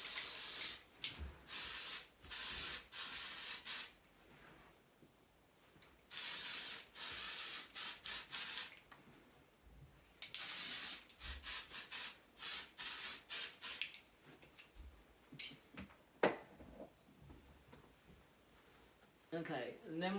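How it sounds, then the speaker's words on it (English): Sam McKnight Lazy Girl dry shampoo is sprayed through the top section of hair in repeated short hissing bursts, close and loud, with someone talking between sprays. "I'm literally just going to spray it through the top section."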